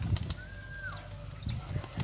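A single pigeon coos once, fairly close, over a low rumble of background noise, with brief knocks or flutters around it.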